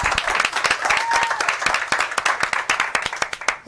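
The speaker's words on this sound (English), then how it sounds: "Round of applause." A studio audience at a local talk show breaks into applause: dense, lively clapping from many hands, loud and close, holding steady for several seconds and thinning slightly at the end.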